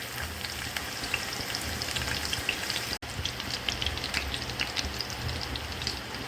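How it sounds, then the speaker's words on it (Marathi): Garlic fries in hot oil in a wok for a fish curry, giving a dense, even crackle and spatter like light rain, close and continuous apart from a momentary cut-out midway. "कढईमध्ये 2 चमचे तेल गरम करून घेतले आहे, तर आपण फोडणीसाठी आता इथे थोडी लसूण घालूया।"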